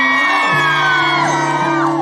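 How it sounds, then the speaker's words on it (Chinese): A concert crowd at an outdoor tea-picking song music festival in Toufen screams and whoops loudly, in a sustained wash of high voices with no pause. "全场的尖叫声可以再一次吗？"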